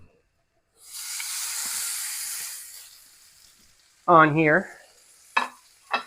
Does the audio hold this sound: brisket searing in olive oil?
yes